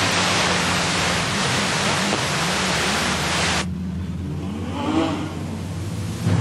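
Production sedan race cars roar around Carina Speedway in a loud, continuous wash of engine and tyre noise. The roar shifts abruptly partway through as the pack passes, with no voices.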